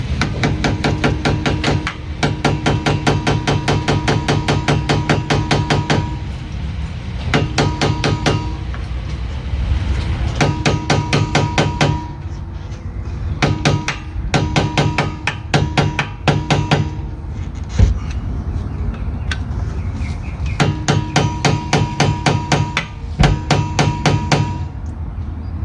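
Repeated metal hammer blows bending up the staked axle nut on a 2013 Honda CR-V during rear wheel bearing work, sharp ringing strikes in rapid bursts of several hits separated by short pauses, close and loud with no talking.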